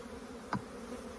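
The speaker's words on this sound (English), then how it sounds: "Bees will sting." Honeybees buzz around an open hive being split, next to a feeder and a grafted frame. A steady close hum holds throughout, with one brief louder burst as a bee passes near.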